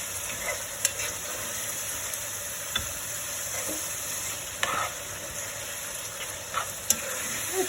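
Minced meat browning in a large-based pan for bolognese, a moderate, steady sizzle with occasional sharp clicks of a utensil stirring and scraping the pan.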